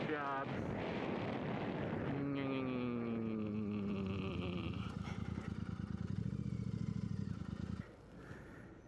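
A 2019 Royal Enfield Interceptor 650 motorcycle rolls into a driveway, its engine note falling in pitch as it slows, with a rumbling idle that fades near the end.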